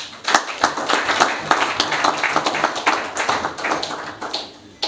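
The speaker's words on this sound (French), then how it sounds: "Félix Antoine Tshisekedi Tshilombo, que je demande d'applaudir" Applause from an audience at a political reception in the Democratic Republic of the Congo, greeting the country's president, a lively, irregular clatter of many hands with sharp individual claps standing out, lasting about five seconds.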